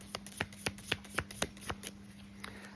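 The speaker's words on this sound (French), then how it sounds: "Je vais prendre quelques cartes de cet oracle." Oracle cards are shuffled by hand in a series of soft, rhythmic riffles and taps, close and quiet, with no talking.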